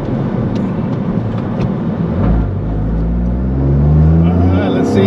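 A Toyota GR Corolla's 300 hp inline turbocharged engine pulls hard, a low rising drone heard from inside the cabin that swells louder toward the end, with road rumble underneath.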